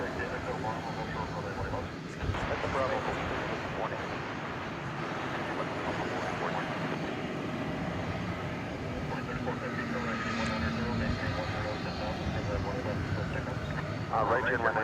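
Airliner approaching DFW Airport at night: a steady, moderately loud jet drone rumbles throughout, swelling slightly toward the end, under intermittent voices from people and radio chatter.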